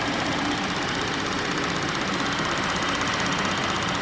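A 2014 Chevy Impala's 3.6-liter VVT V6 runs steadily at idle, a continuous even mechanical hum and whir with no breaks, close and alone without voices.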